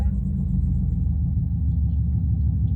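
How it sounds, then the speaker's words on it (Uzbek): A taxi car's engine rumbles low and steady from inside the cabin, a close, constant throaty drone with no clear rise in pitch. "Motorni qizityapsizmi motorni? O, ovozi zo'rmikan mashinangizni?"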